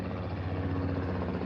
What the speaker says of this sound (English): Wow, chopper incoming.